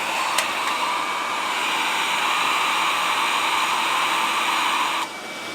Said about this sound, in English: I have the vacuum on low right now because I don't want to scare Diamond